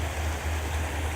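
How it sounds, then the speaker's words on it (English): A small stream pours like a little waterfall, making a steady, close, full rush of flowing and splashing water with no other sounds. "It sounds like a little waterfall."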